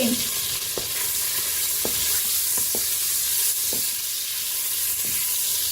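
Pieces of veal brown in melted fat inside a Cookeo electric pressure cooker. A loud, steady sizzle and hiss fill the clip, and a wooden spoon knocks and scrapes in short taps every second or so.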